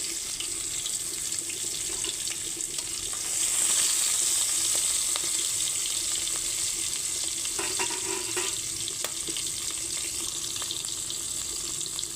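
Prawns fry in hot oil in a wok, giving a steady bright sizzle that swells a little partway through and carries on unbroken for about twelve seconds.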